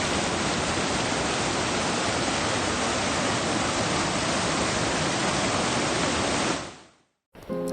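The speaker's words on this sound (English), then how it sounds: "while walking, we heard this stream that has an amazing view and what I call nature's ASMR." A mountain stream on the Laguna 69 trek in Huascarán National Park, Peru, rushes as a loud, dense, steady wash of water that cuts off abruptly near the end.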